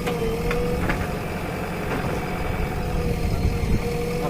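A steady tractor engine rumbles continuously at close range, low and throbbing, with faint clicks and no speech.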